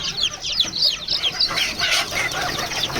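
Newly hatched desi (gavti) chicks at a poultry farm peep in rapid, high overlapping chirps, a busy continuous chorus close by with no talking.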